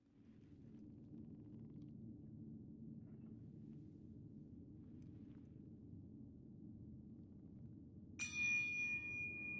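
A temple bell in Sekiro: Shadows Die Twice struck once near the end, a bright ringing clang that sustains and decays over a quiet, steady low ambient rumble.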